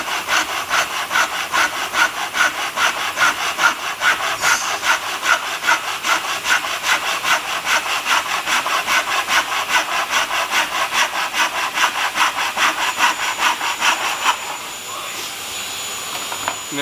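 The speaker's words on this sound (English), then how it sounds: "I'm going to saw between my lines in the middle the best I can" A hand saw cuts through wood held on a bench hook in steady, rapid back-and-forth strokes, loud and close, stopping near the end.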